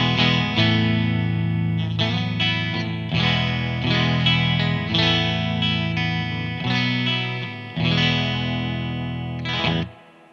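A vintage electric guitar plays sustained, distorted chords through fuzz and reverb while being tuned, with several strummed notes ringing out and overlapping before the sound cuts off.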